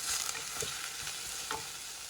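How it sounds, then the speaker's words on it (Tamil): Sliced onion sautéing in a small amount of hot oil, a steady close sizzle with faint scrapes of stirring and no voices. "வெங்காயம் வதக்கி விட்டுக்கலாம்"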